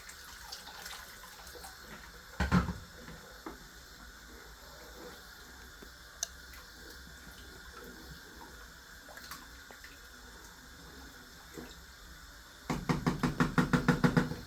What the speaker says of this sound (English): I'll add a bit more water.